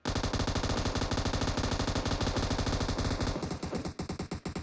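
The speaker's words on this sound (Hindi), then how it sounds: "सामने भाई बंदा फायरिंग कर रहा है ओपन में" Rapid automatic gunfire from a shooter video game plays loud and continuous, dense bursts of overlapping shots that break into shorter, choppier volleys near the end.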